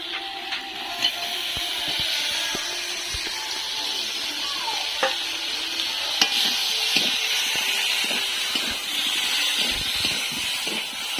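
Pointed gourd and shrimp sizzle steadily in a hot pan of oil, a bright continuous frying hiss with scattered pops and occasional scraping stirs.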